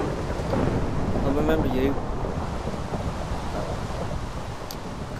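Video game thunderstorm: a steady wash of rain with low rumbling thunder running throughout, while a character's voice speaks briefly over it near the start.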